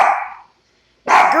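A dachshund barks twice up close, two loud separate barks with a short silent pause between them.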